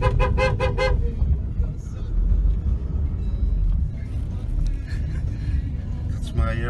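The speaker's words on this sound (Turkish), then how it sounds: "Kornaya bas, kornaya bas." A car horn honks in a quick series of short toots at a bear on a road in Rize, Turkey, then traffic rumble and voices continue underneath.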